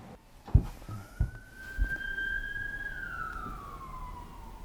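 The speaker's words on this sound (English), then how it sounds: "Sirens." A siren wails from a distance, rising and then slowly falling in pitch, after a few dull thumps nearby.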